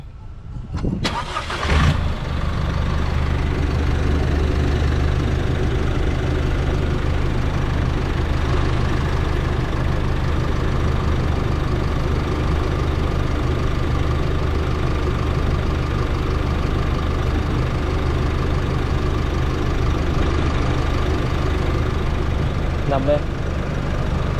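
A car engine cranks and catches with a sharp burst, then settles into a loud, steady idle that drones on without a break.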